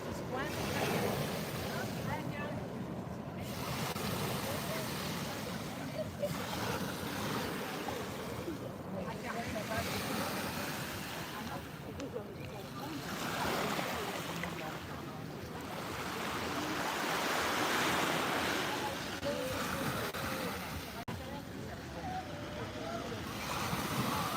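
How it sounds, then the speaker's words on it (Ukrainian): Sea waves on the French coast wash in and out in a steady, broad roar with slow swells, mixed with wind buffeting the microphone, and no voices can be picked out. "Я насолоджуюсь цим звуком моря"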